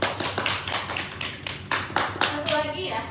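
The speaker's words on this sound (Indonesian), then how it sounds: "Ya tepuk tangan ya" A small group claps hands in rhythmic unison during a teen counseling session, a run of evenly spaced, close and fairly loud claps, with a voice speaking briefly near the end.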